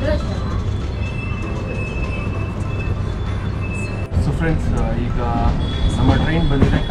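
A passenger train pulls out of Kayankulam Junction with a steady low rumble of wheels and carriages, a brief jolt partway through, and faint squeals and voices in the background.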